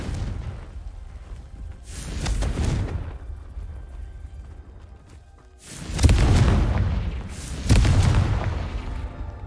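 Confringo fire spells cast in Hogwarts Legacy land as deep, rumbling blasts. A muffled boom swells early on, then two heavier explosions roll out in quick succession later, each a low roar with a crackling burst on top.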